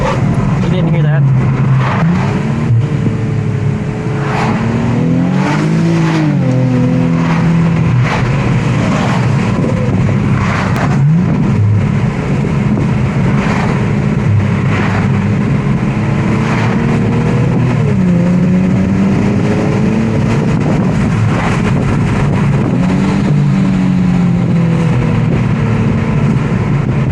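A turbocharged 2019 Infiniti Q60 making about 430 wheel horsepower roars loudly throughout, its engine climbing and falling through repeated revs, while voices talk over it.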